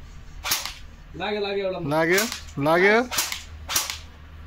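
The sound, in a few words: gun being fired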